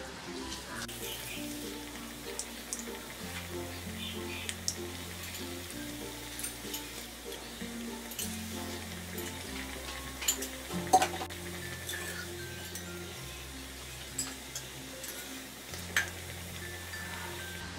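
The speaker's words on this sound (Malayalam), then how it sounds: "ഈ എടുത്തു വെച്ചിരിക്കുന്ന മാവ് ഇതിലിട്ട് ഫ്രൈ ചെയ്യാം." Bread vada batter frying in hot oil, a steady close sizzle and crackle throughout with faint background music underneath.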